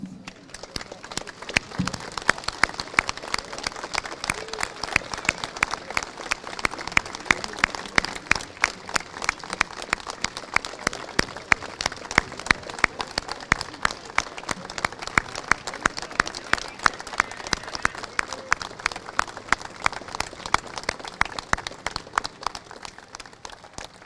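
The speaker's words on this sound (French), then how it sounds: "En mémoire d'Henri, je vous propose quelques instants d'applaudissements." A crowd at the Ducasse de Mons procession claps steadily for several moments in memory of Henri Brouet, dense, continuous applause with some sharp individual claps standing out.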